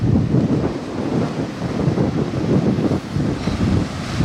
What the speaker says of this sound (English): it's always windy over here